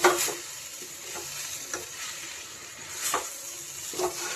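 Onion, tomato and okra sizzle and fry in a pan, a steady crackling hiss punctuated by occasional stirring scrapes, close and moderately loud with no voices.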